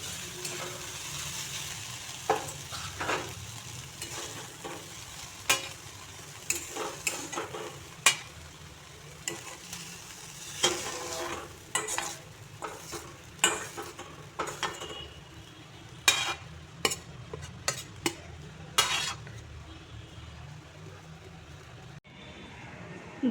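Dhenki greens frying in a pan, with a steady soft sizzle and repeated sharp scrapes and clinks of a utensil stirring against the metal, fairly quiet and close.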